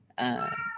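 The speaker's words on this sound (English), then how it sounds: "That's my cat" A pet cat lets out a single loud, close, strained meow that is almost a scream, cutting in sharply and holding for about half a second.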